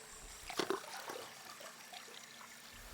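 Hot bath water sloshing and splashing as someone climbs in, a few soft, close splashes early, then quiet trickling at low volume.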